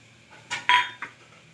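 Metal utensils clink and clatter against a pan as chopped snake gourd (padwal) is added to cooked dal, giving a few sharp, close knocks with one ringing clink in a quiet kitchen.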